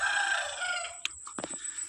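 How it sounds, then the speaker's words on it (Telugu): A rooster crows loudly and close by, followed by a few sharp, quick clucks from chickens at a village farm garden in Penugollu. "కోళ్ళు అన్నీ కూడా మావే"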